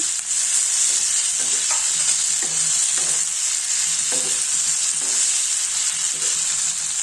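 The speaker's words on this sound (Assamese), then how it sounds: "মাজতে আলু দি আকৌ এবাৰ লৰাই দিম ভালদৰে।" Potatoes sizzle steadily in a hot pan for spicy puri sabji while a utensil scrapes and stirs in irregular strokes, with no talking.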